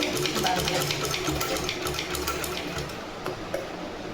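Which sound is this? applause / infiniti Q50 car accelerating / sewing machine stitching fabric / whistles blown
sewing machine stitching fabric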